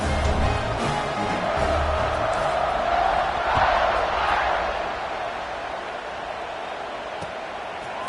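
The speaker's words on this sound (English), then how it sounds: "this crowd is buzzing after that last score" Football stadium crowd roaring steadily after a score, a broad continuous wash of cheering and noise that swells briefly near the middle and eases slightly toward the end.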